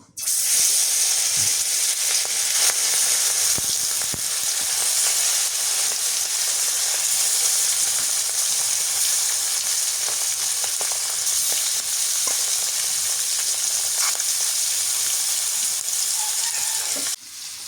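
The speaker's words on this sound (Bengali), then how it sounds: "মাছগুলো ভাজা হোক" Loud, continuous sizzling of silver carp fish frying in hot oil, a steady crackling hiss with scattered pops throughout, close up and without talk.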